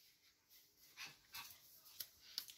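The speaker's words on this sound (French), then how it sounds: "C'est pas la gosse, c'est le chien." A dog gives faint, short whimpers and soft yips at irregular intervals, quiet and somewhat distant against a low background hiss, with no talking.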